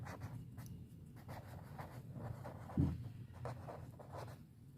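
Pen writing on paper during an accounting lesson: a steady, faint scratching texture with one brief louder tap near the middle, no talk over it.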